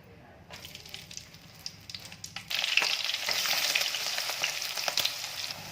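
Chopped onion, green chilli and tomato frying in hot oil for savoury semolina, starting quietly and then swelling into a loud, dense, continuous sizzle with occasional scrapes, close by and without talk.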